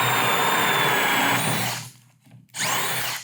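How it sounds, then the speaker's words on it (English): A DeWalt DCD443 Hole Hawg cordless drill bores a 2-inch hole at full speed, its loud steady whine and grinding bit noise running for about two seconds, dipping briefly, then surging back up. "So brand new drill, brand new bit, works pretty darn good."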